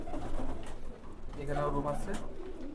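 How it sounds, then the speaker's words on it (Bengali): Pigeons coo in a large loft in Khulna, Bangladesh, a steady murmur of soft overlapping calls from many birds close by, with people talking over them. "সব মাদি কবুতর এখানে"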